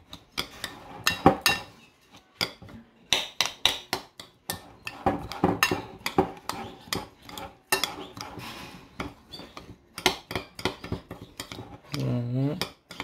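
Two batches of pâté for canaries are mixed together with a utensil in a bowl, with irregular clinks, scrapes and knocks at close range and a person talking in between.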